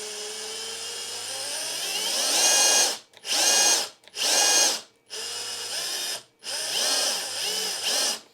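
A Makita XGT 40V SDS rotary hammer drill whines loudly as its variable-speed trigger is squeezed, pitch rising and falling through several separate bursts with short silent gaps between, close and alone.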